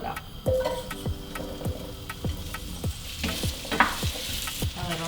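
Potatoes frying in hot oil in a pan for a seafood hash, a steady close sizzle broken by repeated sharp scraping strokes of a utensil stirring them about.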